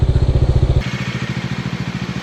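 Motorcycle engine running near a nature campsite on Marilaque, with a steady low pulsing throb that shifts to a lighter, rougher idle-like chug partway through, close and fairly loud.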